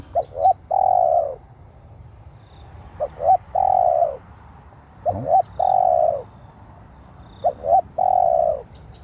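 A spotted dove coos repeatedly in the open during a dove-luring session: four calls spaced a few seconds apart, each with two quick notes and then a longer rolling coo, clear and fairly close over faint background hiss.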